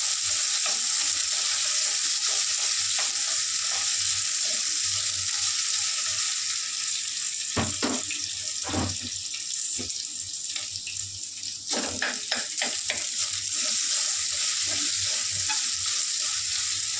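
Potato and two halved green chillies fry in a pan for a potato, pea and paneer curry, a steady close sizzle broken by a few louder scraping stir strokes.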